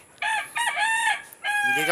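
A rooster crows loudly and close by, a long drawn-out call in several rising and falling segments, followed by the start of another crow.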